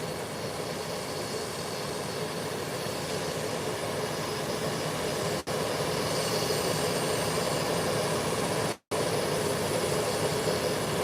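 An Air Canada airliner taxis to its parking stand, its jet engines a steady, broad roar that holds for the whole stretch. The noise drops out briefly twice, and no one speaks.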